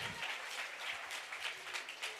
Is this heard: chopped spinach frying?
no